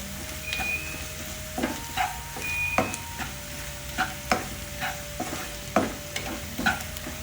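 Raw banana is stirred and mixed in a hot pan, a spoon scraping in regular strokes about once a second over a soft steady sizzle, close by, with a thin whine in the background.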